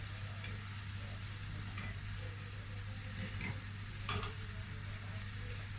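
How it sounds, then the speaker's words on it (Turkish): Sigara böreği, rolled pastries, fry in hot oil with a steady soft sizzle and faint crackle, occasional light stirring clinks close by, and no voices. "Böyle kıpkırmızı kızartalım çıtır çıtır."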